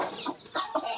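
A hen gives three short, soft clucks close by, in a quiet setting with no other sound.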